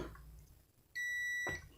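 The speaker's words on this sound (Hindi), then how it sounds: "बज़र की आवाज़ आ रही होगी आपको" A steady, shrill electronic 12-volt buzzer tone from a gold finder meter under repair sounds for about half a second between brief stretches of low background noise.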